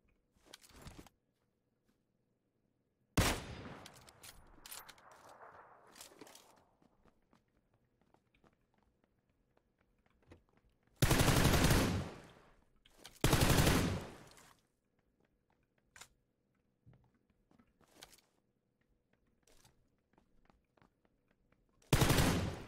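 In a PUBG match, sharp bursts of gunfire ring out in separate clusters: a short volley, then two heavy rapid bursts, then a final burst, with quiet movement and faint rustling in the gaps between.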